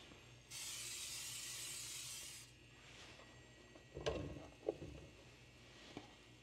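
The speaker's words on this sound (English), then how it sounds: "we're going to use some pan spray" A steady two-second hiss of cooking spray into a hot HexClad pan, close and fairly loud, followed by faint clatter and a couple of sharp knocks.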